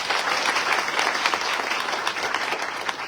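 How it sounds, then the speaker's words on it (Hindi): Steady, dense applause from an audience at a business gathering, sustained and fairly loud throughout with no voices standing out. "और हमारे अपलाइन मिस्टर नीरज कुमार जी के लिए जोरदार तालियां।"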